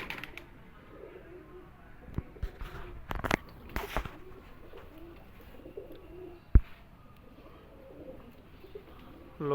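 Soft cooing of Sialkoti rooftop pigeons in a quiet outdoor setting, with a few brief louder knocks and rustles scattered through.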